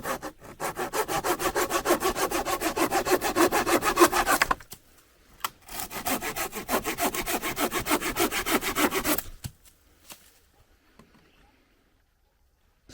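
Fiskars SW69 folding saw cutting the end off a wooden fence post: steady, rapid rasping strokes in two long runs separated by a brief pause, then quiet after the piece comes off.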